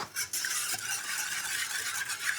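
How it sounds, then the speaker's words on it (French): Sugar, cream and egg yolks being whisked for crème anglaise: a quick, steady scraping swish of a whisk against a bowl that repeats without a break and stays close and fairly bright. "Je perce rapidement les jaunes, je mélange et je vais cuire ça très rapidement."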